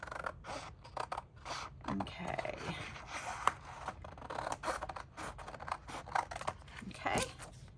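Close, crisp snips of large Tim Holtz Tonic Studio scissors slicing through paper, several quick cuts in uneven rhythm, with a brief spoken word in between.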